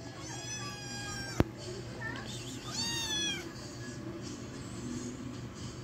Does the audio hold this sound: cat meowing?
yes